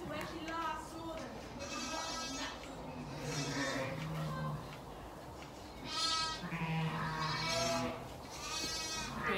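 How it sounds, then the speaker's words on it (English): Sheep and lambs bleat repeatedly while being led down into a pen on a valley farm in spring, the calls coming close and fairly loud over people talking and encouraging them along. "We bring the lambs down first, then Mum will follow."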